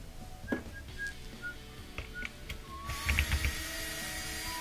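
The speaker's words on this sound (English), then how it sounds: "So I'm gonna use a small little ratchet and a Phillips head screwdriver to get those off" A small ratchet clicks in quick light bursts while backing out Phillips screws from an LG dishwasher, faint and close, with a few brief metallic ticks and a slightly louder run of clicks near the end.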